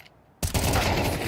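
A rapid, dense burst of automatic gunfire sprays in Counter-Strike, starting suddenly after a quiet moment and continuing loud and continuous to the end.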